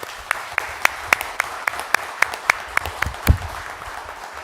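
Sparse applause at a city council meeting, a handful of people clapping in distinct, separate claps with room echo, with faint talk in the background.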